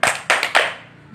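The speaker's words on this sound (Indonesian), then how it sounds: "Tepuk jari." Three sharp, close finger claps land in an even rhythm, each with a short ringing tail. They are the kind used in a classroom clapping routine for early-childhood students.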